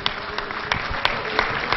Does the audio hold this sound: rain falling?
no